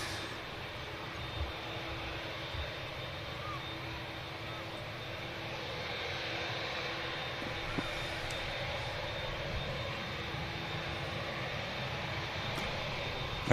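A Scandinavian Airlines jet airliner passes at an airport, its engines a steady broad roar holding level and fairly loud throughout, with a faint continuous hum beneath and no voices.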